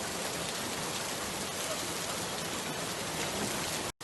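Steady rain falling, a continuous even hiss of moderate drops that holds throughout, then cuts off briefly at the very end.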